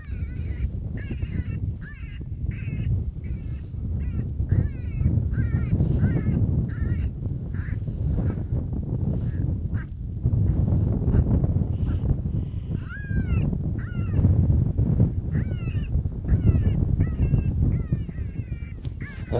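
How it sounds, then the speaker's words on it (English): A loud electronic predator call plays coyote-hunting distress and fight sounds out in the Nebraska Sandhills, with repeated harsh, squalling cries and caws in bursts over a rough, noisy background. "I'm gonna crank loud sounds like TNT Cottontail, Schoolyard Brawl"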